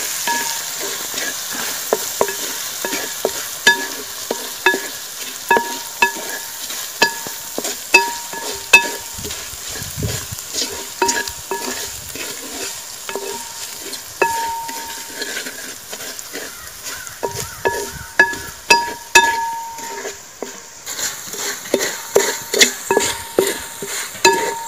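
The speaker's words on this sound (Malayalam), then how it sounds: "ഉപ്പ്, നന്നായി ഒന്ന് ഇളക്കി കൊടുക്കും." Kerala mango pickle masala gets stirred with salt in a pan, a spoon scraping and clinking in quick repeated strokes over a soft frying sizzle, close and without talk.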